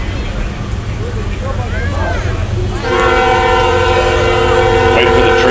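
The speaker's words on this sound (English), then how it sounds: "Waiting for the train to go by." A train rolls past near a BMX race track, a loud rumbling passage joined midway by a long sustained horn blast, with voices faintly mixed in.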